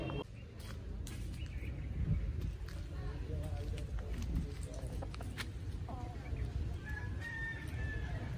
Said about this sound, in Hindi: ये जो बांग सुनते हो ना, तो मुर्गे की बांग